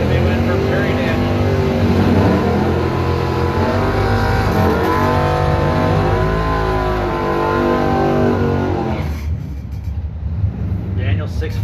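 A 1971 Challenger and a 1985 Trans Am run a drag race, engines roaring loud and close with rising revving harmonics, then cutting off abruptly near the end, under an announcer's voice.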